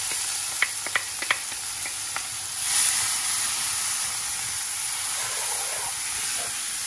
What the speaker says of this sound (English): Once the cumin seeds start popping, add the onion and green chili to fry.